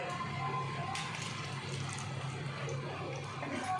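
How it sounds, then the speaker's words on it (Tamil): Water is poured into a pot of quick Bombay-style sambar, a soft, faint splashing trickle that continues steadily for a few seconds. "இன்னும் கொஞ்சம் தண்ணி கலக்கும்."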